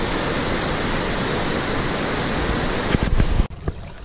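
A mountain stream rushes through a small canyon in the Kebnekaise mountains of northern Sweden, making a steady, close, full roar of flowing water that stops abruptly near the end.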